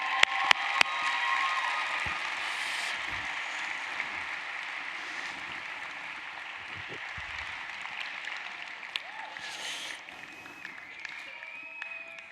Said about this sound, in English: we might have to keep clapping